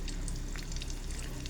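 Cooking oil heating in a frying pan for pork dinuguan, giving a steady, close, continuous sizzle and crackle with no talk.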